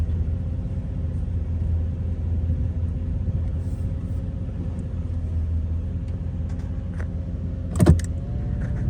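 A car rolls along on its first drive after restoration, a low steady engine rumble running throughout, with a sharp brief clunk near the end.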